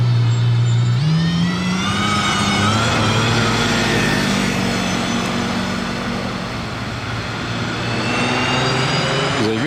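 An Aston Martin Valkyrie hypercar sends a loud, high-pitched engine wail along a city street, rising in pitch as it accelerates and passes, the roar continuing at full strength before fading slightly toward the end.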